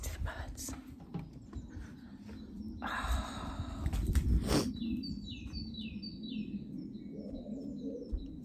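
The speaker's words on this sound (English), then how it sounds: "Let's go out and listen to the birds." Birds singing outdoors in the morning, several short chirps and rapid repeated tweets rising over a soft background rumble, with faint rustling and brief whispery noise in between.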